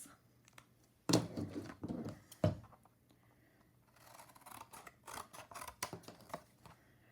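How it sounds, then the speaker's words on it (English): Scissors snip through a Diet Coke cardboard box to cut out a square, with a couple of sharp, loud crunching cuts followed by a run of lighter, quicker snips, close up and without talk. "cut out a square out of this Diet Coke box"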